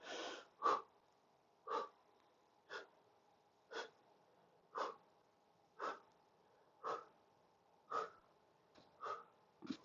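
Slow push-ups paced by breath: about ten sharp, forceful exhales or sniffs spaced roughly a second apart, close and clear against near silence.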